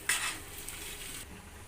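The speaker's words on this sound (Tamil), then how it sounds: "நெக்ஸ்ட்டு சப்பாத்திக்கு தோசைக்கல் ரெடி ஆகிட்டுருக்கு. சப்பாத்தி போட்டுக்கலாம்." A chapati cooks on a hot dosa griddle (tawa) for a home breakfast, with a soft, steady sizzle and light scraping that starts with a brief clatter and continues evenly, close and alone.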